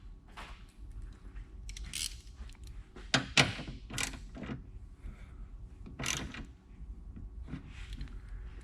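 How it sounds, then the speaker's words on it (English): A ratchet clicks in short, quiet bursts on a bracket bolt while an oil separator goes into a 2014-2018 Chevrolet/GMC truck or SUV with a 5.3L/6.2L engine, with some metallic clinks mixed in. "Once we have the bracket where we want it, we can tighten up that bolt."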